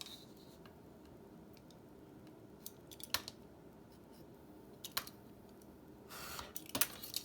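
Scissors cutting paper for a small tissue box, a few faint crisp snips scattered across a quiet room, no talk.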